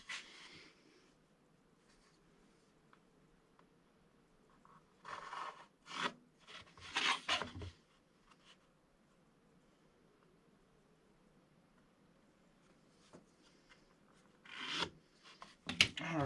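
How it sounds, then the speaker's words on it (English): A sander rasps against a lightsaber mount in short, separate bursts of rough grinding, with quiet pauses between the passes and a final cluster of strokes near the end. "when I taper this down with the sander"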